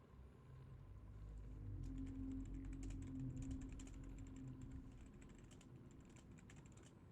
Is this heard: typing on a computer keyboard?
yes